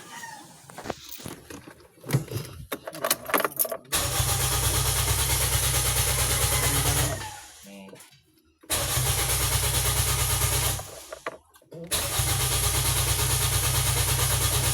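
A Toyota Vios with a throttle body and ECU fuse fault cranks several times before its engine catches, then settles into a loud, steady mid-pitched idle that cuts out and restarts again.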